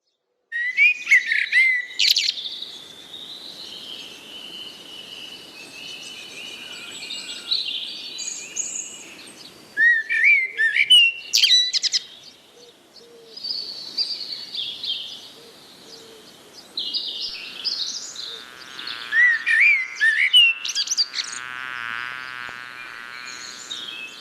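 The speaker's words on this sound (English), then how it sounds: "The chirping of birds is almost like tunes, songs" Birds chirping and singing in repeated bright, whistled phrases, loud and close, with short pauses between bursts of song.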